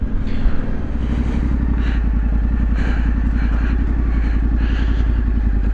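A trail motorcycle pulls steadily along narrow Welsh lanes, its engine a loud, close, even thrum with a rapid regular pulse and faint clatter over it, holding near-constant revs throughout.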